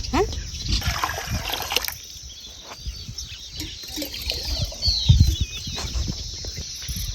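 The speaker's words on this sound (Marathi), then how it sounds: "त्यासाठी आधी गरम पाण्यातच आपल्याला सगळी वजळी धुवून घ्यायची" Tripe (vajri) is washed in hot water in a pot, with close splashing, sloshing and trickling that rises and falls unevenly throughout.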